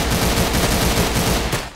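Dense, continuous rapid gunfire from the Roblox-style shooter Arsenal, a loud unbroken burst of automatic shots lasting nearly two seconds before cutting off abruptly.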